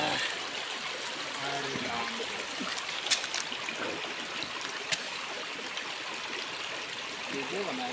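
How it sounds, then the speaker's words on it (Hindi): A fast-flowing water stream, heard on the way to the Skanda Mata temple, rushes in a continuous broadband roar with a couple of brief splashes; faint voices sit low under the water. "ये जब पानी आवत है जी, कितने स्पीड पानी आवत है?"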